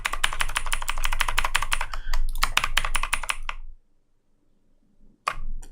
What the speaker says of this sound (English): I hope my keyboard's not too loud